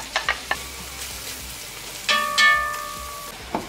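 Shrimp with onion frying in a hot pan, a steady close sizzle with a few sharp pops and stir scrapes, a louder hiss rising as the onion goes in.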